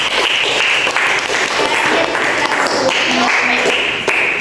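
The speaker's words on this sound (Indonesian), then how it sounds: "kita beri tepuk tangan dulu untuk kelompok" A classroom of students applauds a group that has just presented, a steady burst of nearby clapping from many hands with faint voices mixed in underneath.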